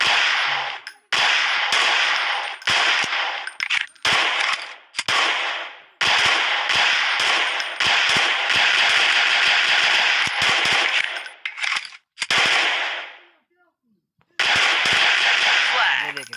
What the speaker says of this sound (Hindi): इसको फायर करते हैं, इसको ठीक करते हैं।